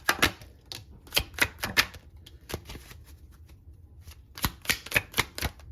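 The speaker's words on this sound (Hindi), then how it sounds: "चलिए अब यहाँ पे आपके टैरो शफल करते हैं" Tarot cards being shuffled by hand, a run of crisp riffling bursts and soft slaps in quick clusters, close and moderately loud, with a short lull in the middle and no talking.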